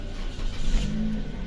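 A 2021 Toyota Yaris engine turns over and settles into a steady low idle rumble close by, with no talking.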